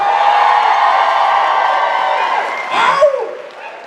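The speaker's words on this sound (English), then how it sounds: "please give another warm round of applause for Lana Twig" A convention panel audience at a Supernatural fan event cheers and applauds for Lana Twig, a loud crowd roar with whoops and scattered clapping, while voices shout over it.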